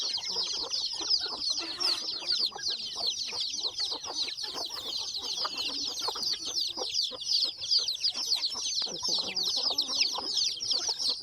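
Chickens clucking and chattering on a farm in the morning, a dense, steady flock of overlapping clucks and squawks close by that runs throughout without a break.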